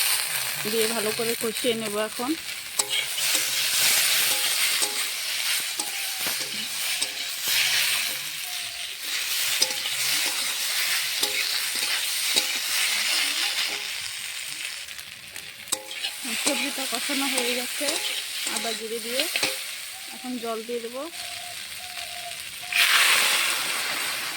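Vegetables sizzle and hiss steadily in a hot pan, with stirring noises and a person talking intermittently over the frying.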